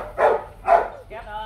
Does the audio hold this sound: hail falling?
no